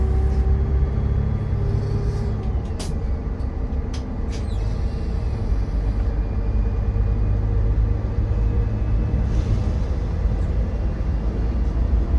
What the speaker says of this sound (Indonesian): Dan setiap pengoperan gigi itu ada suara gitu.